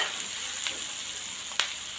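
Carrot and chili relish with turmeric simmers in a pan, giving a soft continuous sizzle with a couple of brief sharper crackles and no voices.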